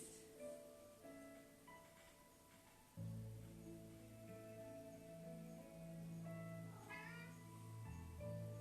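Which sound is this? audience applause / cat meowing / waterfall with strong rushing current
cat meowing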